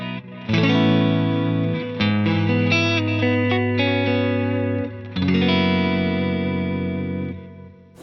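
Guitar played through a Strymon Volante tape echo pedal set for a dark, worn tape tone, sustained distorted chords with soft repeats trailing behind, full and close, alone without talking.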